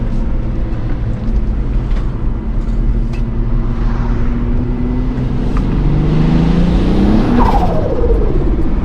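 A turbocharged VR6 engine in an MK3 Volkswagen revs hard under acceleration, loud and close, with a steady drone that climbs in pitch near the end and a faint squeal.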